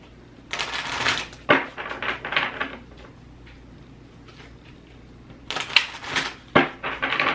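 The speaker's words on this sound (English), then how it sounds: "I'm writing names on this envelope." A pen writes names on an envelope up close, scratchy bursts of quick strokes in two clusters separated by a quieter pause.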